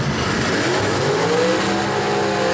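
A gasser drag race car at Knoxville Dragway, a loud engine roaring continuously as it races down the dragstrip with rising pitch and steady high power throughout.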